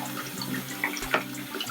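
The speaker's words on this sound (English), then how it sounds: "we filled the sink up with some water. And now we're going to wash all the sand and dirt off of the vegetables" Vegetables are swished in a kitchen sink filled with water to rinse off sand and dirt, giving soft sloshing and a sharper splash near the middle over a steady low hum.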